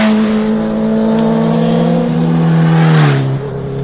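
A loud car passing close by on a road, its engine tone rising and then dropping as it goes past, with a whooshing sweep at the end and no talking.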